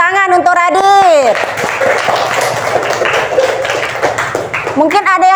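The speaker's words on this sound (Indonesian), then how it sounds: "Tepuk tangan untuk Radit." Classroom applause as pupils clap together, a dense burst of many small hands lasting a few seconds between a teacher's spoken lines.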